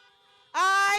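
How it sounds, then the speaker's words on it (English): A car horn blares loudly and steadily at an outdoor drive-in high school graduation celebration, starting abruptly after a faint, lower-pitched horn tone in the background. "Honk those horns."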